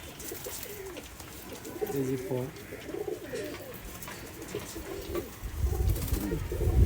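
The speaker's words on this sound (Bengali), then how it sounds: "এটা একটা মাদি কবুতর" A female Giribaz pigeon coos near the microphone, low throaty bursts repeating amid a man's speech, with a rumble of handling noise toward the end.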